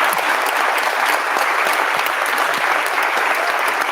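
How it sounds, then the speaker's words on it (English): A lecture audience gives a continuous, even round of applause for the speaker, full and fairly close, with a steady wash of many hands clapping and no voices on top. "So if we could please give a round of applause for our speaker again."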